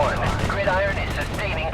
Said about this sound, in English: When artillery shells land across the valley, you actually get the sound delay.